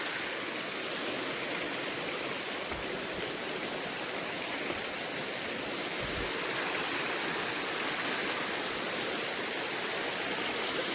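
Steady, full-bodied roar of a waterfall beside a mountain hiking trail, rushing water hissing continuously and loudly throughout with no pauses and no voices.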